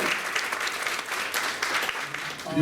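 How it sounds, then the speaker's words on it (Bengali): An audience at a women's honour award ceremony in Kolkata bursts into dense, sustained clapping that stays loud and even for a few seconds, with a faint voice at the very end. "একটা জোরে হাততালি চাই।"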